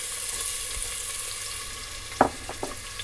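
Onion frying in a few tablespoons of sunflower oil in a pot gives a steady, low sizzle throughout, with a couple of brief stirring clatters near the end.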